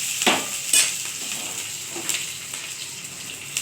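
Dried red chilies, green chilies and bay leaves fry in a pan of hot oil with five-spice seeds, giving a steady close sizzle with a couple of sharp stirring clinks early on.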